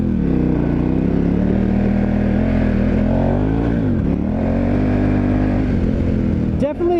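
A dual sport motorcycle on Avon TrekRider 50/50 tires runs loud and close through a sand wash, its engine droning and rising and falling in pitch as the throttle varies, with a brief clatter near the end.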